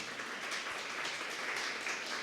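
A church congregation applauds a couple, a dense, even patter of many hands clapping at a moderate distance, steady for the whole stretch.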